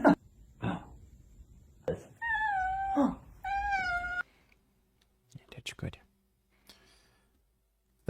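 A pet cat near a fan meows twice in quick succession, loud and close, between brief bursts of talk before and scattered clicks and soft voices after.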